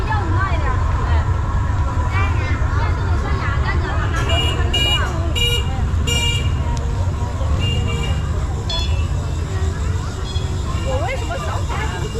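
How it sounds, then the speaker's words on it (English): Busy Xi'an street with passing cars and motorbikes, several short horn toots in a cluster midway over steady traffic rumble and voices talking nearby. "these cars, these motorbikes, you can hear lots of horns"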